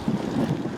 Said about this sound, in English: now we've got this rather dull windy weather